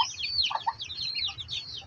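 A native hen clucks and chirps among chicks in a backyard coop, with soft, repeated clucks and a stream of high peeping from the chicks throughout.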